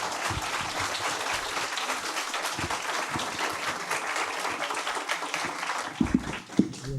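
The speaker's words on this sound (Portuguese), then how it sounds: "eu peço então uma salva de palmas para o professor José Marques de Mello." A lecture audience at an international comics conference applauds steadily, a dense wash of clapping held at even loudness for about seven seconds, with a few louder thumps near the end.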